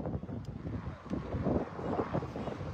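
Gusty wind buffets the microphone with a low, rumbling roar that rises and falls throughout.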